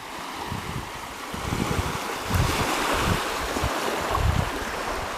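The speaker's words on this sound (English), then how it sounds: "Listen to those waves crash." Ocean waves crash along the shore on a windy day, rolling surges of surf over a steady rush of wind buffeting the microphone.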